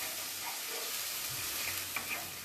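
Ginger and tomato paste fry in hot oil with a dense, even sizzle, broken by light stirring sounds across the short stretch.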